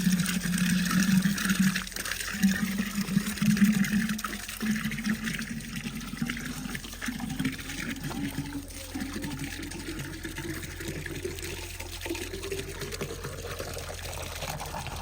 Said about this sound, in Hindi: तो मैंने कहा घड़ा भर लेते हैं।